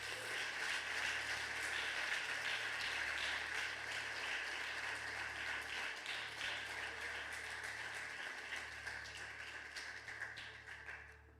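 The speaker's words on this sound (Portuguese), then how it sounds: "Quem pode dar um aplauso ao Senhor?" Applause from a church congregation, a soft, even patter of many hands clapping that tapers slightly toward the end, with no voices.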